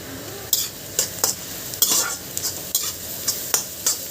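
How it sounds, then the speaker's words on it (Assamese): Ginger garlic paste fries with golden-browned onions in a pan for a jackfruit stir-fry, a steady close sizzle broken by about a dozen sharp, rhythmic spatula scrapes and clinks against the pan. "এতিয়া মই আদা ৰচুনৰ পেষ্টখিনি দি দিম।"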